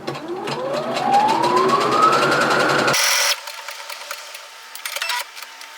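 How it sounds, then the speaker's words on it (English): A domestic sewing machine stitches a small eyelet into a sweatshirt hoodie with the feed dogs covered, its whir rising steadily in pitch for about three seconds before cutting off, followed by quieter handling clicks. "cover my feed dogs, and then I'm going to stitch the eyelet"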